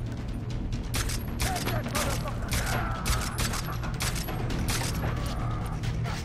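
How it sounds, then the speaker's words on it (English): Pistol gunfire in Far Cry 3, a dense run of sharp shots in close succession throughout, with mechanical clicks between them. "my pistol doesn't shoot that far."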